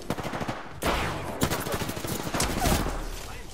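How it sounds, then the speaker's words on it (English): Bursts of automatic gunfire in the video game Apex Legends, loud overlapping rapid shots in several volleys, with faint voice chat underneath. "I am taking fire, friends."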